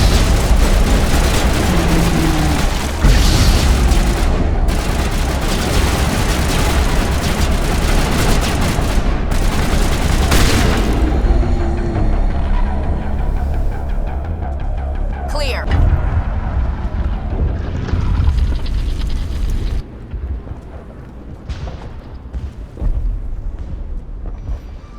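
Loud, dense battle noise from the Mass Effect game, with booming blasts and rumbling explosions layered under shouted voices, the din easing off toward the end.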